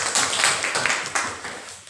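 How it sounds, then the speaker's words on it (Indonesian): A classroom of students gives a short burst of applause during an Islamic studies microteaching lesson, dense clapping lasting under two seconds and fading slightly at the end. "Beri tepuk tangan"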